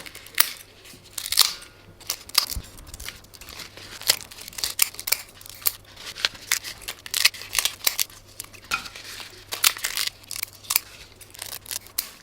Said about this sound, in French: on va couper en tout petits morceaux les feuilles de lierre